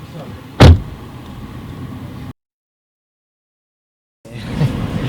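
A car door shuts once with a single loud, solid thud, set against steady cabin or engine hum, followed by a stretch of silence and then the hum returning.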